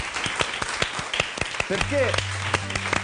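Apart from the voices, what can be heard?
audience applause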